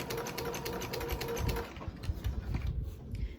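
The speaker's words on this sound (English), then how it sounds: "I'm just gonna start sewing at a 1/4 inch seam allowance in a straight line" A sewing machine stitches a straight quarter-inch seam along a strip of fabric for continuous bias tape, a steady close mechanical whir with rapid needle ticks that softens and turns more irregular toward the end.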